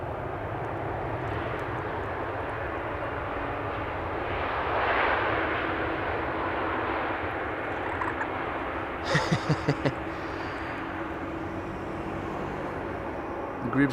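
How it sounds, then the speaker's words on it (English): An EasyJet Airbus A320neo arriving from Copenhagen lands at Schiphol, its engine roar a steady broad rumble that swells midway, with a few sharp thuds near the end. "Coming in next, EasyJet arriving from Copenhagen"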